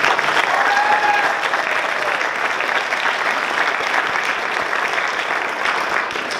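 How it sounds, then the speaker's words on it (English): An audience claps steadily throughout, a dense, sustained round of applause with faint voices mixed in. "So just one more round of applause for our keynote."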